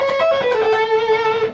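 Electric guitar plays a short pentatonic lick in an early style, with quick pull-offs settling into a held, bent note, loud and close.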